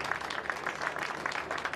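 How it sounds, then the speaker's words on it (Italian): Rugby crowd at an international Test match between Italy A and Romania A applauds from the stands, a distant, fairly faint wash of steady clapping spread evenly across the moment. "Tra gli applausi dello"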